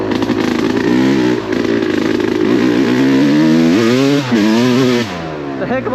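A Yamaha YZ250X two-stroke dirt bike ridden through the woods at around 40 to 50, its engine loud and close, revving up and down continuously with sharp rising pitch sweeps near the end.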